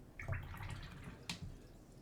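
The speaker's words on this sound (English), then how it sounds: "So I'm cleaning my brush," Ink brush rinsed in water during ink portrait painting: soft, faint splashing and dripping with a brief sharper swish near the end, quiet and close.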